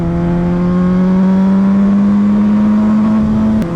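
An MV Agusta motorcycle engine holds a loud, steady high-revving drone close by, then drops off sharply at the end with a brief crack.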